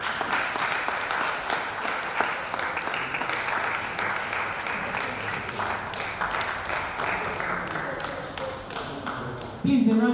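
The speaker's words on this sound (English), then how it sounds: "Please, a round of applause for him" An audience at a press week awards ceremony applauds an honoree with a long, steady round of many clapping hands, and a voice comes in over a microphone at the very end.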